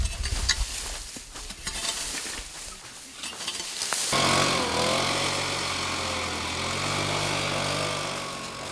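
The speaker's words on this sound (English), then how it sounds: "Blower blows away all the cut grass, dry leaves and twigs, thus clearing the guideline." A leaf blower starts up and runs steadily, a loud continuous engine roar with a rushing whine, clearing cut grass, dry leaves and twigs from a forest fireline after scattered rustling.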